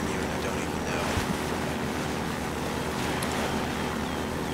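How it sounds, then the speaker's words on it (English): Splashing water in the Garry's Mod sandbox game, a steady wash of sloshing with a brief louder splash near the start, continuous throughout with no talk. "Someone's splashing around in the water."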